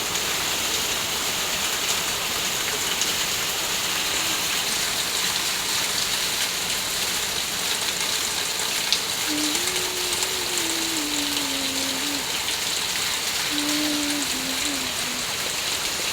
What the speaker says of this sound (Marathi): किती भरपूर पाऊस पडून गेला आहे, आणि असंच पाऊस चालू आहे